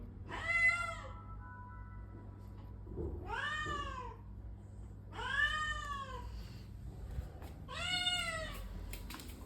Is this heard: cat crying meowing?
yes